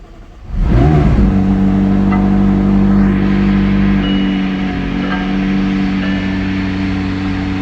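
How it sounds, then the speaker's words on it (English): A 2019 McLaren 600LT supercar cold-starts on a cold day, its engine catching with a loud close bark and then settling into a steady, high, even idle that eases slightly after a few seconds. "We're going to do a proper cold start here because it's like 30 degrees outside of Massachusetts today."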